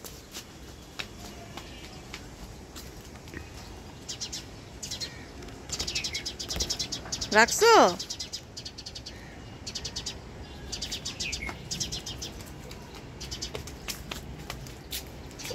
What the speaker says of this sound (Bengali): ওই যে সব পাখালি আছে এখন